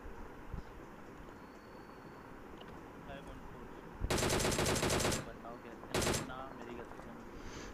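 Automatic weapon fire in PUBG Mobile comes in two loud bursts, a long rattling stream followed by a shorter one, over steady game ambience with someone talking nearby.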